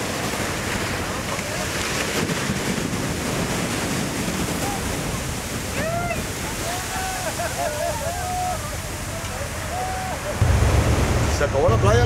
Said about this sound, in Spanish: tenemos muy cerquita el agua del mar, se viene el marejado de alta intensidad